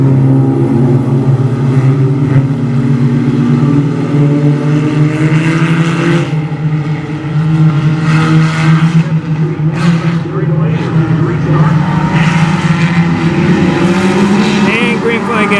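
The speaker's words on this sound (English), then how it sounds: "Michael Burr out in the front now in heat race number 2" Race cars in a heat race at Brownstown Speedway, a dirt oval: several engines drone and whine together in a continuous loud roar that rises and falls as the field circles, with an announcer talking over it.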